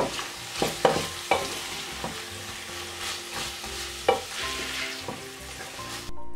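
Meat, onion, biber salçası (pepper paste) and chickpeas being sautéed in a pan for a meat-and-chickpea dried okra dish: a steady close sizzle with repeated scraping stirs and a few sharper clacks, no voices.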